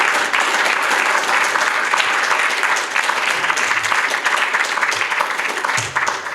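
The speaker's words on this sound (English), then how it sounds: "a round of applause for Luke Donnellan" An audience at a political discussion event applauds former minister Luke Donnellan with loud, continuous clapping from a crowd, steady throughout and sounding close.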